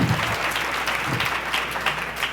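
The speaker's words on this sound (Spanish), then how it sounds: "le damos un aplauso aquí" A church congregation applauds during a Spanish-language sermon, steady close clapping with some crowd murmur, continuous and fairly loud throughout.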